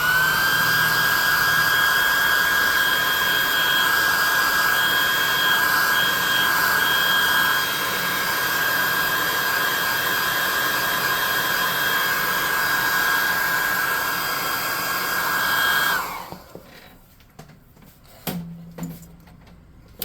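A hot air gun blasts loudly and continuously with a steady high whine while drying paint on a small tabletop-game miniature, then cuts off abruptly, leaving a few soft clicks and handling knocks.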